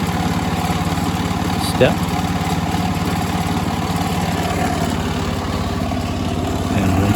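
A snowblower's small gasoline engine runs steadily at idle right after being started, a continuous mid-low drone with a short clatter near two seconds, while someone speaks briefly over it.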